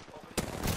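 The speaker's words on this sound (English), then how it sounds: "I wanna grab that Kraber and snipe him if needed." A single loud Kraber sniper rifle shot in Apex Legends cracks in sharply and booms on with a sustained roar, following a brief stretch of quieter game ambience.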